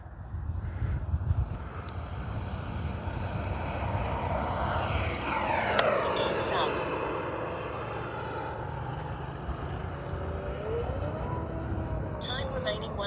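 Radio-controlled jet aircraft making a low pass at a flying event, its turbine whine swelling as it approaches and a Doppler sweep as it passes, then fading into a distant steady hiss with outdoor background noise.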